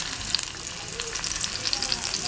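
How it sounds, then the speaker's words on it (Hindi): Onions fry in oil on a tawa with a steady, close hiss and scattered small crackles, continuous and without talk. "ये प्याज जो है आहिस्ता आहिस्ता हल्का हल्का भून रहे हैं इसमें।"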